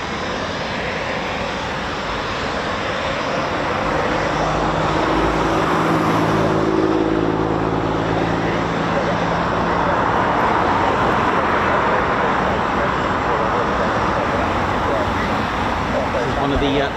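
A Eurofighter Typhoon FGR4 jet at an RAF station produces a loud, sustained roar that swells in the middle and stays broad and rumbling throughout, with road traffic mixed into the background.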